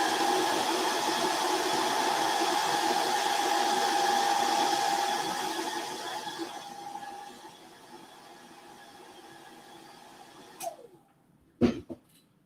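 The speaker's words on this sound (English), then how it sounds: "Hair dryer." A hair dryer blows with a steady, whining roar for several seconds, then winds down, followed by a couple of sharp clicks near the end.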